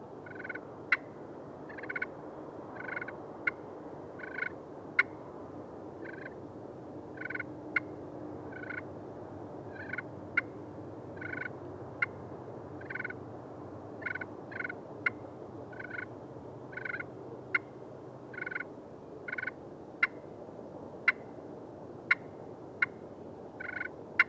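Rhythmic turkey call clucks and soft purrs repeat steadily, sharp and bright, a slate friction call played up close over a low background rumble.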